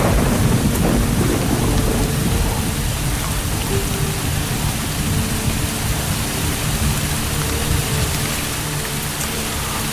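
A thunderstorm with heavy rain lashing koala habitat in southeast Queensland: a constant loud downpour with deep rumbling thunder rolling underneath, strongest at the start and easing slightly toward the end, no talking.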